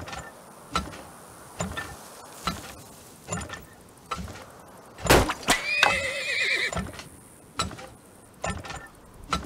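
Horses neighing in the oil-drilling game Turmoil: a loud whinny in the middle over a steady run of clicky, mechanical game sounds and regular ticks.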